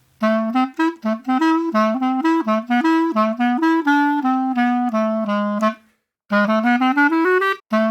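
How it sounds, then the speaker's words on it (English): A solo clarinet plays a lively melodic phrase of quick, detached notes, pausing briefly before continuing, clear and close. "we have a clarinet"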